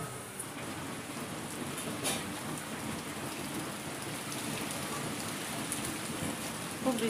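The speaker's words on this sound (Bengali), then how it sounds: "খুব বৃষ্টি হচ্ছে বাড়ি।" Heavy rain pours steadily on surfaces during a cyclone-season storm at a house, a dense continuous hiss with occasional louder spatters and a faint low rumble of thunder.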